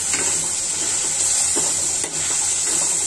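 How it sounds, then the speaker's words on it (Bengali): Chicken pieces marinated in soy sauce fry in hot oil, giving a steady, close, continuous hiss and sizzle that holds evenly for the whole stretch with only a brief dip, faint stirring clicks underneath and no voices. "নর্মালি না রান্না করে সয়া সস মাখিয়ে তেলে ভেজে নেবেন"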